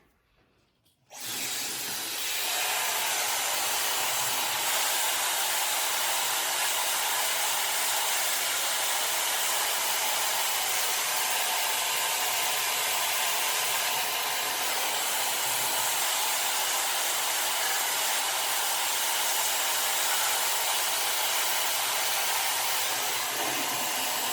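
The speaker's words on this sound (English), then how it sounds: "just trying to teach you the steps as to how to even approach blow drying your hair" A hair dryer roars continuously and loudly up close while hair is blow-dried with a round brush, a steady rushing airflow with no talking.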